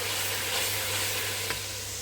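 Vegetables, cauliflower and potato, hitting hot spices in a pan, giving a steady loud sizzle and crackle throughout with a faint scrape of stirring.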